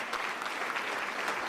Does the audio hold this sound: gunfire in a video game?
no